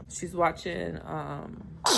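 A single sneeze bursts out near the end, right after someone talks at home.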